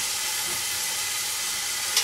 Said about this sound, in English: I'm gonna keep the meat as is and just sear it